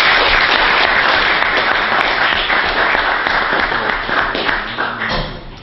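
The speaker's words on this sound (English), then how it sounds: "How about another round of applause for everyone?" An audience at a Tulane Maritime Law Journal event claps, a loud burst of hand clapping from a room of people that gradually thins and fades over about five seconds.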